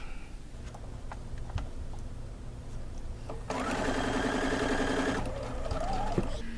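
A sewing machine stitches fabric over bulky seams, starting with slow, sparse stitches and then breaking into a loud, fast, steady run for a couple of seconds before easing off again.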